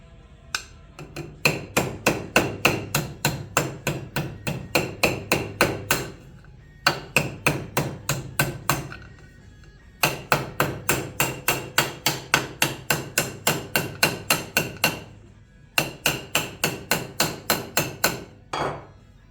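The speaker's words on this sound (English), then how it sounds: "If you bend it the wrong way, all you got to do is hammer it back." A hammer strikes bent metal on an Austin Healey tail light, close and sharp, in four quick bursts of rapid evenly spaced blows with short pauses between them.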